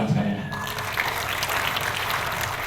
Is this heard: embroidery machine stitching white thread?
no